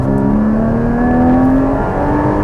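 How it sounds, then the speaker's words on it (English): Porsche Cayman GT4 engine pulling hard from a stop, a loud steady drone with a harmonic climbing in pitch as revs rise, heard from inside the car with no talking. "it hauls pretty fast out of that stop sign"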